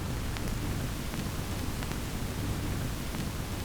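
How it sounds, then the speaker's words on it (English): Steady broadband hiss, even and unbroken, like the background noise of an old tape, with a faint low rumble beneath it and no other sounds. "I found some tape hiss that I think sounds really cool here"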